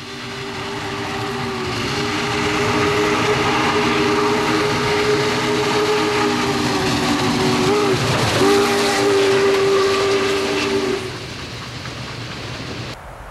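Union Pacific Challenger 3985 steam locomotive, departing St. Louis in cold weather, sounds a long, loud, steady whistle blast for about nine seconds over the rumble of the running train, with no voices.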